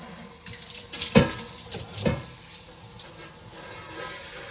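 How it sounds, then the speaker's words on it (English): Water splashes and runs from a tap into a sink, with a couple of louder gushes early on before settling into a softer flow. "That to hot water."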